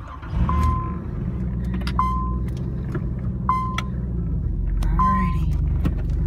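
A 1988 Nissan 300ZX cruises along a road, its engine a low steady rumble close up, with a few short beeps repeating over it and some talk mixed in.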